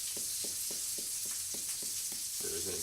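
Sausage frying in a pan gives a constant bright sizzle, with regular low clicks or taps roughly every quarter second, then a brief shift in the sound at the end, and no talking.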